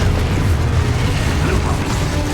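Confringo blasting spell cast in Hogwarts Legacy, a loud, dense, rumbling burst of magical noise that holds steady through the whole moment.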